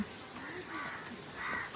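Crows caw around a coconut palm as a man climbs it to pick coconuts: two clear bursts of cawing, the second louder, over a faint outdoor background with no talk.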